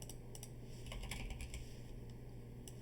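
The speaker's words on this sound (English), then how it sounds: "if I type in Billy here" Typing on a computer keyboard while working on a React form built with Vite and TypeScript: a quick, close run of light key clicks at a steady pace, with no voice.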